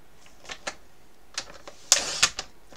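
A paper trimmer slices purple card stock for a handmade card, giving a few short, crisp cutting strokes and clicks close by, with a louder sliding burst near the end.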